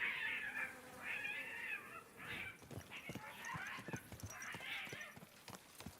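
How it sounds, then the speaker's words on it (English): Cats meow and caterwaul in a video game set outdoors near horses, several drawn-out wailing cries in overlapping bursts at moderate loudness, with faint thuds and other game sounds beneath. "Are they killing cats?"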